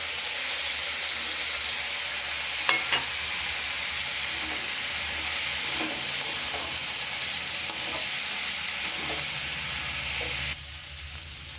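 Steady, loud sizzle of mixed winter vegetables and spices frying in a pan for labra, with a few sharp scraping clicks of stirring, then the hiss drops slightly near the end.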